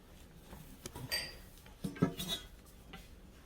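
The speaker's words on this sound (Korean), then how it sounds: "자, 접시를 한번 뒤집고요." A plate is flipped over onto a bamboo steamer holding a layered rainbow rice cake, giving a few soft clinks and knocks of ceramic against bamboo, close and fairly quiet with no talking.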